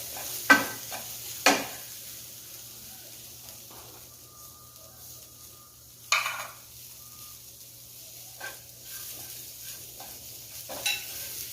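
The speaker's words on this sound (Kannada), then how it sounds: "ಹುರ್ಕೊಳ್ತಾ ಇದ್ದೀನಿ." Dry coconut, coriander and white sesame roast in a pan, quiet scraping stir strokes coming in scattered bursts over a faint dry crackle, with long quiet gaps between.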